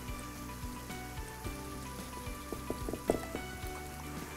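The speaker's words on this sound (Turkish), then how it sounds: "Şimdi çorbam kaynıyor." A pot of Turkish noodle soup boils steadily nearby, giving a soft, continuous bubbling and popping patter at low volume, with no voices.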